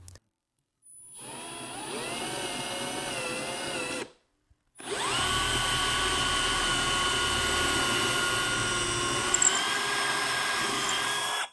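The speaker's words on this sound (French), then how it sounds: "Et ensuite aligne le forêt de la perceuse avec ce coin." A power drill whirs loudly through wood in two long runs separated by a brief pause, its pitch steady and close with no talking.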